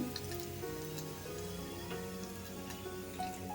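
Battered cauliflower pakora deep-fries in hot oil, giving a continuous dense crackling and bubbling like light rain, fairly quiet and steady.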